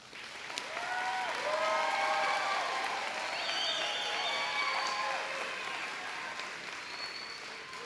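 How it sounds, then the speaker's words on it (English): An audience claps for the class of 2022 at a school graduation ceremony, a broad wash of applause with a few cheers and voices mixed in, rising quickly and tapering toward the end. "Let's just pause for a moment and clap for our graduates."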